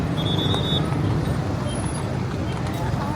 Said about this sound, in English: There is a policeman with a whistle marshalling traffic